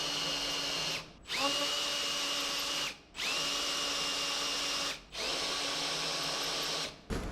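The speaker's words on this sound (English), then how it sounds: "let's just put a quick chamfer on those while we're at it." Power drill chamfering holes in metal, running in steady loud whirring bursts of about two seconds each, separated by brief pauses as the bit moves between holes.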